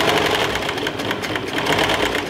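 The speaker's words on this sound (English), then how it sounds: "With the serger, it'll trim off any fabric where you maybe were a little bit uneven." A serger overlocker stitches and trims along the edge of three stacked fabric layers for cloth diaper inserts, with a fast, continuous mechanical whir running loud and close throughout.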